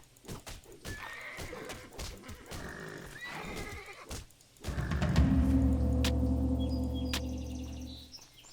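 A horse in the Titan Quest game whinnies in a long, loud neigh that swells and fades, with hoof clip-clops and busy game sounds beforehand.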